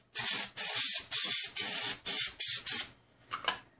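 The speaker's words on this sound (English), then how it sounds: "We'll just give it a nice little coating." Adhesive coating sprayed from an aerosol can onto the bottom piece of a coaster, seven short hissing bursts in a quick even rhythm, then a couple of fainter puffs, close and loud with no talking.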